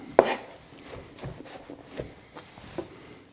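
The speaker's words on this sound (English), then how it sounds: "here's our mushrooms. We're going to just slice these." Knife slicing mushrooms on a cutting board in a home kitchen, one sharp cut followed by a handful of softer, irregular chops, close and fairly quiet with pauses between strokes.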